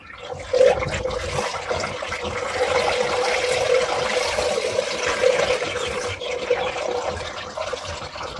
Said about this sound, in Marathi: तर सावकाश पाणी काढून घ्यायचं